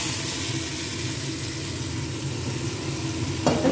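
Sheep meat sizzling and frying in a hot pan while home-cooking a stew, a steady crackling hiss with a low background rumble and a brief sharper clatter near the end.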